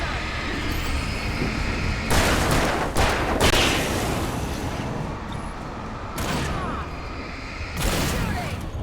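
Gunfire in Alan Wake Remastered, several loud broadband bursts of shots at intervals over a continuous noisy game soundscape, with a voice talking among the shots.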